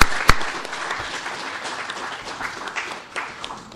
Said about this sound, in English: Can we get a round of applause for our nominators?